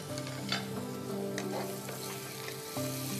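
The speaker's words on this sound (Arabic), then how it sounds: "الحين مع زيت الزيتون أول شيء بحمر بصلة واحدة فقط" Finely chopped onion fries in olive oil, a constant moderate sizzle with a few sharp stirring clicks and a faint steady tone running underneath.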